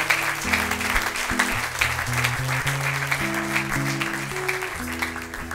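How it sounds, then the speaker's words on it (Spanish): A church congregation applauds steadily under a low, sustained musical backing of held organ or keyboard chords, the clapping even and moderately close throughout with no speech. "Un aplauso."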